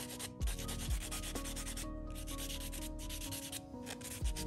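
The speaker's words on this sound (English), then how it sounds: "Buff the shine off the nails" A buffing block rubs the shine off fingernails in fast, close, continuous scratchy strokes, the rasping broken by a few short pauses and light taps.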